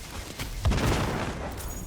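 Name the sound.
explosion in Destiny 2 video game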